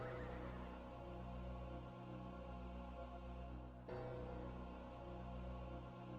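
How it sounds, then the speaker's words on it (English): A horse in the video game Ultima Online gives a drawn-out neigh over a steady low hum, then a second whinny begins after a short break. "there goes the horse"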